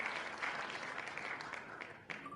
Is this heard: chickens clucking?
no